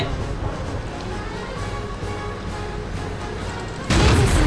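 A World of Tanks tank battle, Girls und Panzer themed, has a low, muffled rumble for several seconds before a single loud, heavy cannon blast bursts in near the end.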